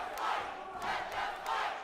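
A wrestling crowd at a Phoenix Pro Wrestling cage-match contract signing shouts in loud, rhythmic surges, three swelling chant-like bursts rising and falling over a steady roar.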